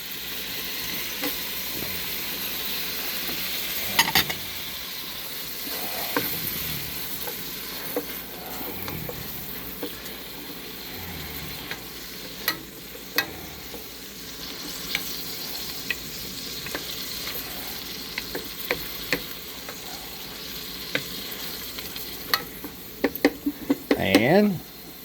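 Chopped onions frying in a pan for homemade chicken pot pie, a soft hissing sizzle with occasional stirring scrapes and clicks, louder clattering near the end, with some talking at times.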